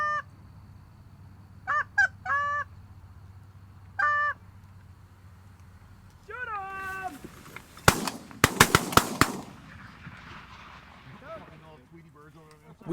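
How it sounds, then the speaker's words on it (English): Canada geese honk in a feeding field, scattered calls near and far, then a burst of sharp gunshots cracks out amid more honking. "These geese are very comfortable in this field."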